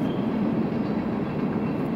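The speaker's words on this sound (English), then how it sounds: "There's a train." A train rolls past near a wooded park trail at Castlewood State Park, a steady, loud rumble with faint wheel clatter filling the whole span without a break.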